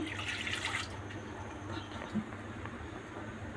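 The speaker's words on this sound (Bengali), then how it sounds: "এবার দিয়ে দেবো এক কাপ পরিমাণ পানি" A cup of water poured into full-cream milk for coconut ice cream, a brief splashing pour at the start that settles into faint running-water noise, close and quiet, no talk.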